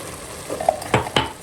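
Chicken wings simmering in a pan with onion, water and lemon juice, giving a low bubbling hiss broken by two sharp clinks of a utensil against the pan, close and fairly quiet.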